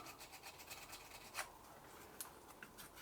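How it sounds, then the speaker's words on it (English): Fine sandpaper rubs between the contact faces of an impulse magneto's points, making faint, close, quick rasping strokes with a few slightly sharper scratches. "I've got a little bit of fine sandpaper. I'll just put that in between the contact faces and just give it a little bit of a polish up"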